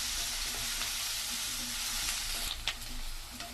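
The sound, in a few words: frying in a pan until golden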